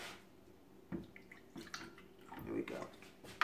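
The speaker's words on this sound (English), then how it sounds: "now what I have to do is I have to add in another 1/4 cup of whole milk" Whole milk poured into spice cake batter gives a soft, faint liquid trickle and drip, with a few brief louder splashes in a quiet kitchen.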